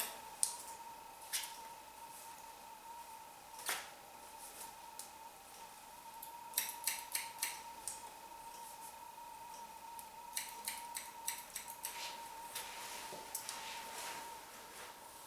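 Scissors snip hair during a pixie cut, close and crisp: single snips at first, then quick runs of several cuts in a row against a quiet steady hum.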